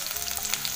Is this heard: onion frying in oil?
yes